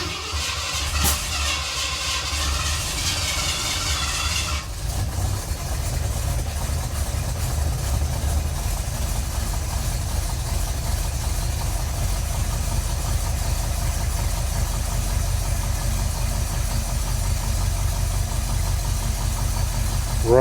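Steady mid-low engine idle from a neglected limo truck after a restart, set near 600 RPM, running smoothly for about twenty seconds with a lighter hiss in the opening seconds and no talking.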